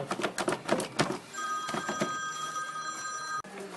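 A telephone rings in a garage during removal of a Renault Mégane 2 engine, with a few clanks of work at the start, then a steady electronic ring tone sounding alone for about two seconds before cutting off.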